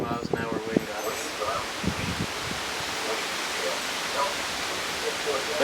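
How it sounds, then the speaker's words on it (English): Strong wind gusts roar through a severe thunderstorm as a steady, broadband rush with rustling surges, loud and continuous throughout. "these wind gusts actually hit 60 miles an hour, I'm sure"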